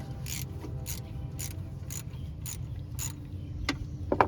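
A ratchet clicks in repeated short bursts, about six evenly spaced strokes, while loosening pickup tube bolts under a 2004 Pontiac Grand Prix during oil pan gasket work, followed by a couple of sharp metallic taps near the end.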